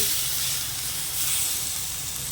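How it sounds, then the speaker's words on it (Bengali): Ground spices and kundri cooking in a pan with coriander, cumin and Kashmiri chili powder, a steady close hissing sizzle that holds even throughout the short stretch, no voices. "এবার আমি ভালো করে কষিয়ে নেব"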